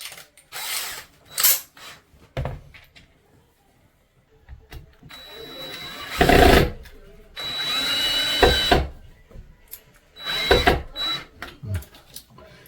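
A power drill drives screws into a roller blind bracket in short whirring bursts with gaps between them. A faint voice can be heard in the quieter moments.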